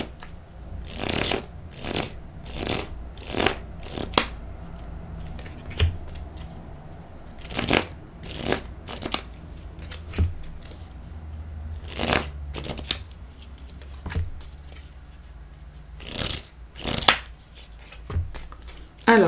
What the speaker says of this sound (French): on va demander aux cartes